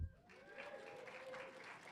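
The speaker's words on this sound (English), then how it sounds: "This is where you applaud." Film club audience applauding after a screening introduction, a moderate, fairly distant wash of clapping that holds steady for about two seconds, with a faint tonal whine running through it.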